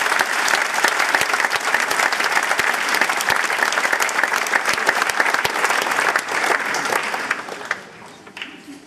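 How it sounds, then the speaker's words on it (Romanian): A large audience at a German Unity Day celebration in Timișoara applauds steadily, a dense, even roar of clapping that holds for several seconds before thinning out toward the end. "atunci aveți acum îngăduința de a aplauda"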